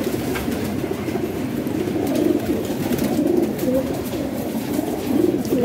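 Pigeons in a breeding loft coo in low, soft, overlapping murmurs, several birds close by, with no talking.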